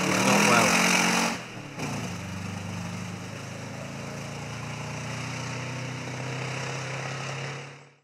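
Saab 96 V4 rally car on a Mid Wales stage, its engine running roughly and unhealthily: a loud burst at first, then a sudden drop to a steady, uneven drone that carries on before fading away.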